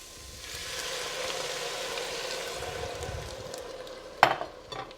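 Red wine hits a hot pan of softened chicken and beans and sizzles steadily, a broad hiss that fades slightly, followed by a sharp clink of a utensil against the pan near the end.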